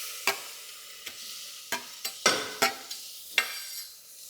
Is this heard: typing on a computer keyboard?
no